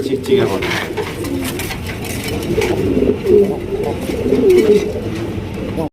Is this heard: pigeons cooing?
yes